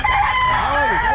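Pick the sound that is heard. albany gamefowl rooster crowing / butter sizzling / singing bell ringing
albany gamefowl rooster crowing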